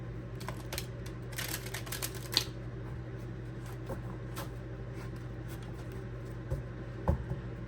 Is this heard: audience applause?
no